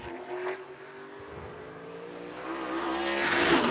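A race car on a qualifying lap at an oval short track, heard from a distance as a steady engine drone that slowly swells louder and brighter as it approaches and passes.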